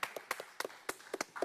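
Hand clapping, a quick run of about ten sharp claps at an uneven brisk rhythm, fairly faint and close.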